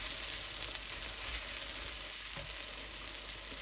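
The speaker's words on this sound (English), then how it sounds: "You gently stir the okra. Wow. Look at that. The okra is cooking." Okra fries on medium heat in a pan while being gently stirred, producing a loud, continuous close-up sizzle with occasional scraping stirs and no talking.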